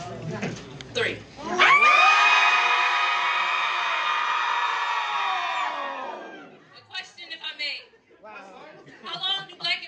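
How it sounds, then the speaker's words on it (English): An audience at a poetry slam screams together on a count of three, a loud sustained roar lasting about five seconds that then fades into scattered shouts and chatter. "I want you all to scream"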